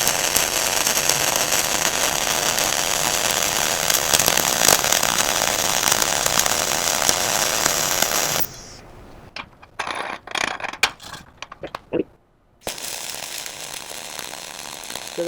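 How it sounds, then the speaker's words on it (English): Flux-cored arc welding lays a surface weld with a loud, steady crackling sizzle that runs unbroken for about eight seconds, then drops to broken, sputtering bursts and stops before a softer hiss returns. "I'm going to watch the puddle get a little bit bigger and weld up onto the previous weld."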